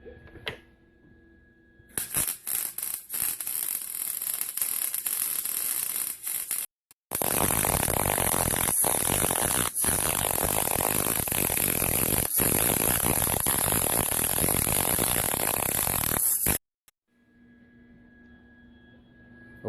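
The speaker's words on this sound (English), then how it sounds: "And now we weld." Welding on a steel bar table frame, with a harsh crackling hiss starting in short bursts and then running as one long continuous sizzle, close and loud, stopping abruptly into quiet.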